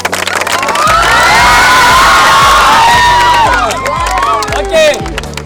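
Students at a Zilla Parishad government school cheer and shout together in a loud, sustained burst from a close crowd, with scattered claps and excited voices rising and falling throughout.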